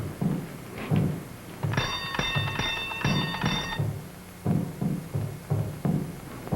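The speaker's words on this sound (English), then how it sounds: "You ring the bell." A bell rung at a door in an old zombie film gives a bright, sustained ringing tone for about two seconds, between dull thumps and muffled footsteps.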